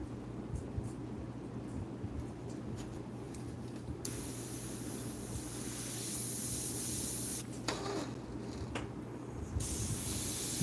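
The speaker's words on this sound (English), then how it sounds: "now I'm going to take the airbrush, and I'm going to put the color in the gun." An airbrush sprays paint while a rose is painted, giving a steady soft hiss with short breaks where the trigger is released and a louder stretch after.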